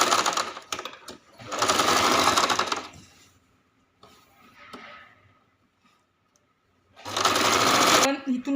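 Sewing machine stitching the folded strip of a blouse in short bursts, two long loud runs and a final one near the end, with quieter handling noise between.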